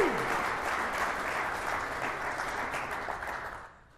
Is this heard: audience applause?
yes